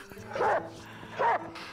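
A dog barks in the video game Reigns, two clear bark bursts spaced under a second apart over a steady low electronic game hum, moderately loud and near, with no talking.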